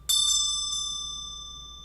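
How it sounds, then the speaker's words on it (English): A small hand bell rings out in a quick couple of strikes followed by one more, its bright metallic tone lingering and slowly fading in a quiet room. "I'm gonna use my little bell here to send y'all some extra"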